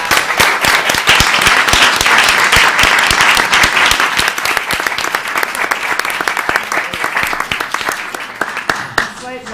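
Loud, close applause from a town select board meeting audience honoring a retiring police inspector after 42 years of service, dense clapping that thins out toward the end.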